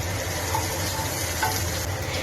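Chopped onions with slit green chilies frying in oil in a pan, a steady close sizzle with faint stirring scrapes throughout, with no voices.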